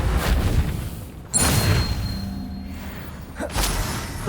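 Incendio fire spell cast in Hogwarts Legacy, heard as two loud whooshing bursts of flame separated by a quieter stretch, near and forceful.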